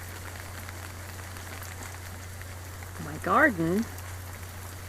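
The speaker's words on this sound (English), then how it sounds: "We're getting a little rain here in Southern California." Light rain falls on a Southern California front-yard garden in a soft, steady hiss, and a voice briefly speaks partway through.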